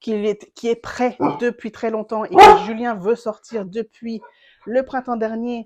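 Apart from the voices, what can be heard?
dog barking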